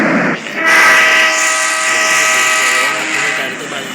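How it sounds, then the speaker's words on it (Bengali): A train pulls into a station, its horn blaring loud and close for a few seconds over the rumble of the rail cars. "দেখেন আমাদের ট্রেন আসতেছে"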